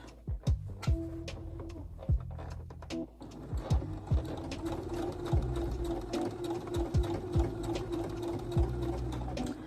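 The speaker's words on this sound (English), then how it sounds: "just so I can get a straight stitch and not get the elastic as I'm stitching" Elastic being stitched onto a garment with a sewing machine produces a close, rhythmic mechanical whirring in short bursts, with pauses and clicks between runs, then a longer steady stitching stretch.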